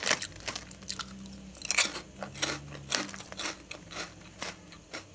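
Crunchy cheese Quavers crisps chewed close to the mic, a steady run of crisp bites and crackling crunches with no talking.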